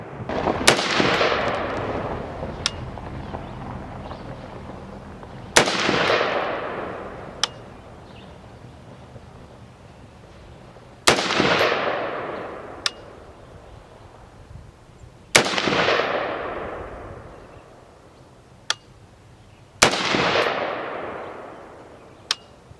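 Five heavy gunshots from a Cru Arms Temp 556 AR-180 pattern rifle, spaced about five seconds apart, each a sharp loud crack trailing into a long echoing decay, with a few fainter distant shots between them.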